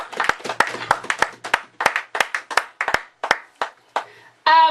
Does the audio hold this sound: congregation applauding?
yes